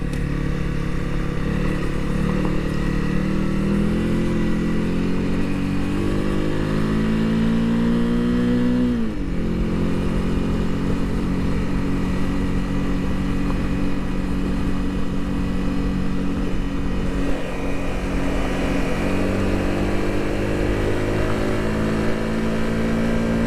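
A beginner rider's motorcycle engine drones loudly and continuously up close, pitch climbing as it revs, then dropping sharply at a gear change before building again, with wind buffeting throughout.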